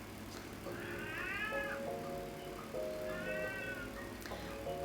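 Two drawn-out, wavering meows from a chatty house cat, separated by a pause, heard nearby against a soft background hum.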